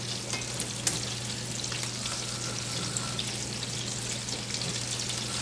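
Meatballs crisp and brown in rendered fat in a pan, a steady dense sizzle holding even for several seconds with faint pops and crackles, close and unbroken, no voices.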